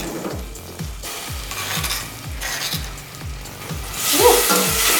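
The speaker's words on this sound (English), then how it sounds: "Get our oil hot, and we'll put our spices" Spices hiss and sizzle in hot vegetable oil while a utensil scrapes the pan in a steady rhythm of stirring strokes, with the frying growing louder toward the end. The dish is Gulai Daun Singkong, made with cassava leaves.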